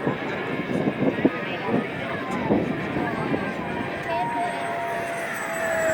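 An XFly J-65 twin 70mm EDF model business jet flies overhead, its fans giving a thin, sustained whine that shifts in pitch as it passes. People talk nearby over the sound.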